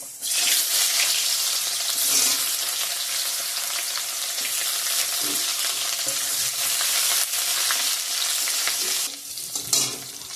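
Chopped onions fry in oil with a bay leaf in a pan, a loud, continuous close-up sizzle with occasional stirring scrapes and no talking.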